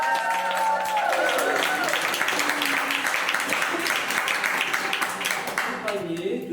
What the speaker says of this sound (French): Applaudissez la merveilleuse Kari.